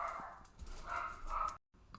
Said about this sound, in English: My dogs were going crazy.